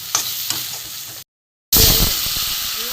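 Dry spices with grated ginger frying in a pan over low heat, a steady sizzle with a few sharp stirring ticks, broken by a brief silent gap before the sizzle returns louder.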